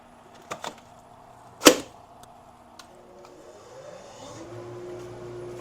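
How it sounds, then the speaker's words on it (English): A few sharp clicks and a loud thump, then a workshop dust collection system spins up with a rising hum into a steady whirring drone. "I also got to turn on my dust collection system."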